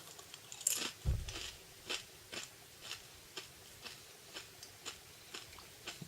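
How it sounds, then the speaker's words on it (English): Crunchy taco or tortilla chips with a smear of cream cheese being bitten and chewed close up, a loud crunch near the start followed by a steady series of smaller crisp crunches. "chew taco or tortilla chips"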